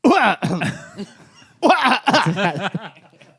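A few sharp, harsh coughs in two quick bursts, close and loud, with a bit of voiced throat noise between them.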